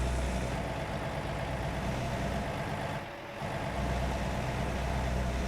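A truck engine in a trucking video game idles with a steady low diesel rumble, dipping briefly in level at one point before settling back, with no speech over it.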